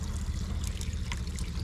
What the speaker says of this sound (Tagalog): Nag-awas tungod sa kadagang tubig.